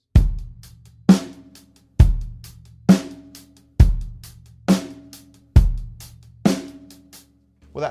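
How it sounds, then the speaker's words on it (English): A straight 16th-note groove on a drum kit: strong kick and snare backbeats land at an even, steady pulse, with faint, evenly spaced cymbal ticks between them. The kit is close and played alone, with no voices. "that would be a 16th note groove, wouldn't it? A straight 16th note groove."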